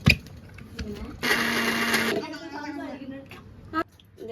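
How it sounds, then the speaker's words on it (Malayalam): A kitchen mixer grinder whirs loudly for about a second, blending cooked onion masala into paste for a home-made beef curry. It is a sharp, harsh motor burst between quieter stretches where someone talks. "ഇനി നമുക്ക് മിക്സിയിലിട്ട് അടിച്ചെടുത്ത് കഴിഞ്ഞാൽ നല്ല പേസ്റ്റായിട്ട് കിട്ടും"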